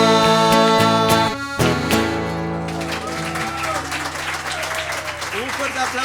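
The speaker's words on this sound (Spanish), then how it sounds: "Un fuerte aplauso" A concert audience breaks into loud applause for a folk singer as the final sustained instrumental notes ring out, the clapping swelling and continuing densely once the music fades.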